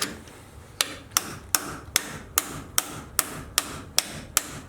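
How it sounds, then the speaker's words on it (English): A series of sharp metallic taps from a hammer on a Jeep suspension shackle, about ten in a steady rhythm, crisp and close against a quiet background. "Grip it and then tap your hammer"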